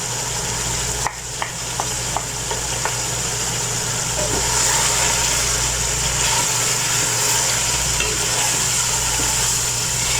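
Chicken chana pulao masala with biryani masala cooks in a pan, giving a steady loud sizzle with a few early stirring clicks of a utensil and a constant low hum underneath.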